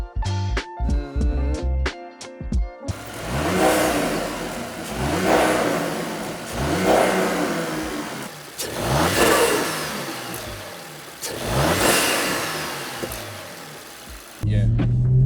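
An Audi RS4 engine revs repeatedly through a new carbon exhaust in several swelling bursts, loud and close, with a short stretch of other noise at the start and end.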